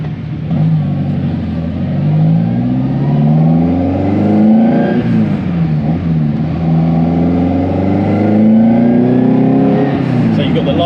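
A Ferrari 308 engine revs and accelerates through a copied original Ansa exhaust, with a deep, throaty note that rises and falls in pitch, loud and close throughout.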